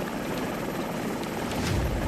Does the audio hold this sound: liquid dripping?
no